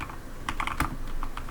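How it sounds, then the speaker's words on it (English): Fast typing on a very loud computer keyboard, with a quick run of crisp, close key clicks clustered together and a few scattered taps after, heard alone. "So excuse the typing noise on my very loud keyboard"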